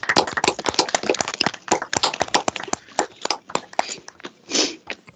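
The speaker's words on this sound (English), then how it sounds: "if everyone who's still with us could unmute, we can give Dara a round of applause in the traditional way" Participants on a video call give an uneven round of applause, with many overlapping claps from unmuted microphones that sound thin and band-limited, steady for several seconds and no one talking.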